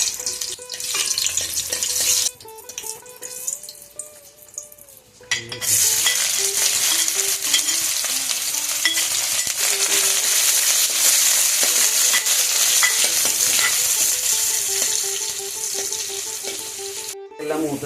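Dried red chillies fry in hot oil with shallots and curry leaves, a loud, steady sizzle that swells after a quieter start and crackles on continuously, with occasional stirring clinks.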